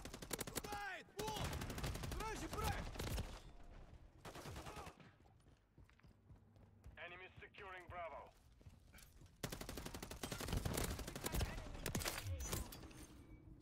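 Bursts of rapid automatic gunfire from Modern Warfare 3 multiplayer, an MCW assault rifle firing in sustained volleys, break off for a quiet stretch and then resume, with a short clipped voice callout heard during the lull.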